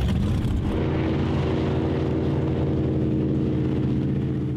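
A motorboat engine drones steadily and loud on a boat trip in Florida, a continuous low rumble with water and wind noise over it, with no talking.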